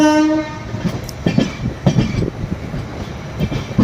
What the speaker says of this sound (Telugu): ట్రైన్ స్టార్ట్ జర్నీ స్టార్ట్ అయిందండి